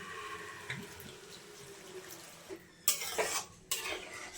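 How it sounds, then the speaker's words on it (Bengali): Water poured into a pan of spiced masoor lentils on a stove, a quiet trickle followed by louder splashing bursts near the end, with faint clinks of cookware and no talk. "এখন আমি এটার মধ্যে পানি দিয়ে দেবো সেদ্ধ হওয়ার জন্য"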